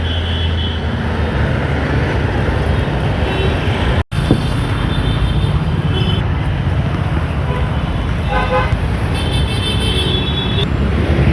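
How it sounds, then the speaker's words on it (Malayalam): Heavy road traffic at night in Bangalore makes a dense, loud roar of passing cars and buses that never lets up, with voices faintly mixed in. "പിന്നെ റോഡിലെ തിരക്കാണ് സഹിക്കാൻ പറ്റാത്തത്."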